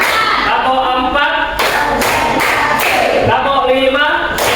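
Primary-school students clap in a counted classroom routine led by their teacher. Sharp group claps land at a steady count between chanted words, a loud voice calling the numbers throughout.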